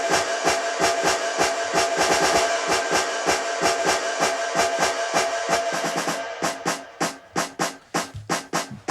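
Three layered snare drums from an electronic dance track, hitting in a fast, dense repeating pattern that thins into spaced, punchy single hits toward the end, loud and close.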